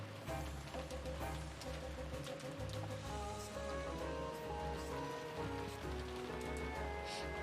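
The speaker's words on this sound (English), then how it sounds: "The Golden Land was filled with a hard downpour accompanied by occasional thunder." Heavy downpour in the Umineko visual novel, a steady, dense hiss of rain under a sustained musical background, with no voices.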